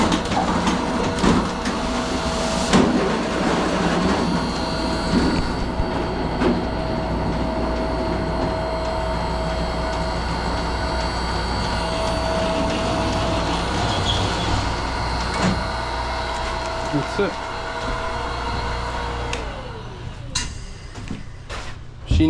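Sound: roll former machine forming copper standing seam panels

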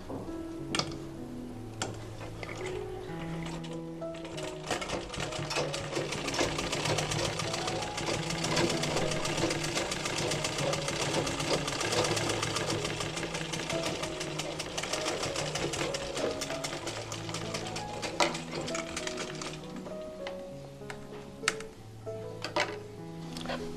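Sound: sewing machine stitching a child's fatua

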